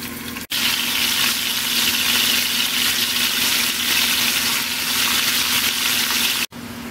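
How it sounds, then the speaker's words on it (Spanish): Beef meatballs frying in hot oil in a pan, a loud, continuous close-up sizzle with crackling spatter throughout. "Vamos a freír las albóndigas."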